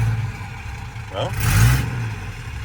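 A second-generation diesel truck engine rumbles low and uneven with a brief surge in the middle, while people talk over it inside the cab.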